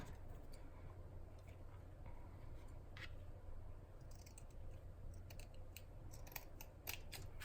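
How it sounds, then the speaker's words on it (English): Paper being cut with scissors for a mini loaded envelope craft, small crisp snips scattered over about seven seconds against a steady low background hum, fairly quiet and with no talking. "You can cut the exact same size as this."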